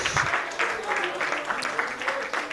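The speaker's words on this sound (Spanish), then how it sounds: "denle un aplauso al Señor" Church congregation applauding during a Sunday school service, steady crowd clapping with voices calling out over it throughout.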